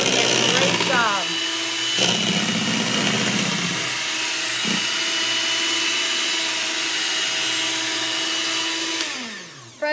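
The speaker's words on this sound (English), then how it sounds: "The mixer is doing a great job." An electric hand mixer whirs steadily while blending pie filling in a bowl, a continuous motor drone that runs close and loud for most of the stretch before winding down at the end.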